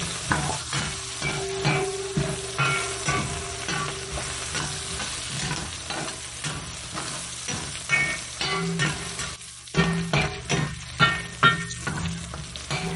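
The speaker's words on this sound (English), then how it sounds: "Add minced garlic, dried red pepper, and jalapeno in the wok as soon as beef is out of wok. Give a quick stir fry about 1 minute." Minced garlic, dried red pepper and jalapeno sizzle steadily in a hot wok while a utensil scrapes and stirs in quick, rhythmic strokes, close and continuous.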